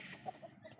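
A white desi hen on a rooftop gives a few brief, soft clucks up close, with no talking.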